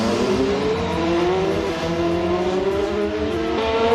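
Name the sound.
race car engine in sim racing video game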